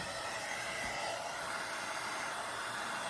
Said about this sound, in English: I'm just gonna nuke it real quick with the heat gun.